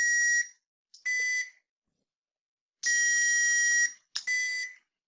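An MRT3 system gives electronic tone beeps when a button is pressed and released: four clear, loud, steady beeps of differing lengths, separated by silence, with no voices.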